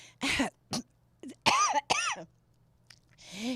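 Several throaty coughs and throat-clearing bursts in quick succession, close and fairly loud, separated by short pauses.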